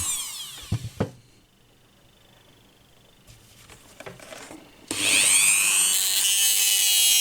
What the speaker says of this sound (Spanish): Continuamos cortando con el disco hasta el final